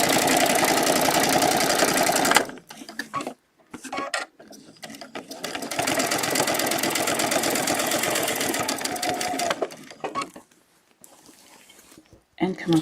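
A sewing machine quilts a feather design with a template, running in long steady bursts of rapid stitching separated by short pauses and stops.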